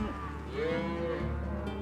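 Cattle moo in a long, low, drawn-out call over a steady low rumble, heard alone without talk.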